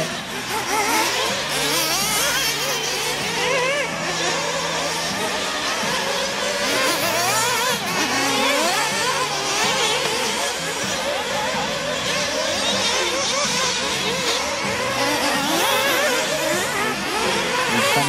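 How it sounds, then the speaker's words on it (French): Renault race cars, including a Renault Savoia leading its heat, drone around a track in a constant, loud engine roar with overlapping passes, while a commentator's voice runs underneath. "c'est désormais la voiture numéro 2 de Renault Savoia qui est en tête devant celle de Yannick Egoin"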